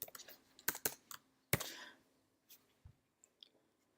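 Keys clatter on a computer keyboard as an assignment description is typed, with a quick burst of clicks, a louder cluster of strokes, then a few sparse taps trailing off in a quiet room.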